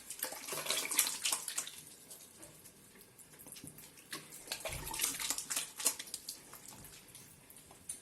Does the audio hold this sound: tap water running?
yes